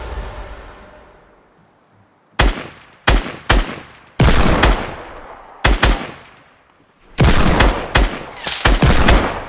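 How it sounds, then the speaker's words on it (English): Loud, close bursts of automatic gunfire in Fortnite, several separate volleys of rapid shots with brief pauses between, erupting after a quiet opening and growing denser toward the end. "Oh, we're getting shot at from behind."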